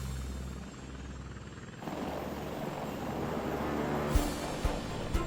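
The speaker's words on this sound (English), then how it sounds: "The combat-proven Apache helicopter is the U.S. Army's most lethal aircraft." An AH-64 Apache attack helicopter drones steadily overhead, its rotor throb and engine whine continuous and fairly loud, with a few low thumps near the end.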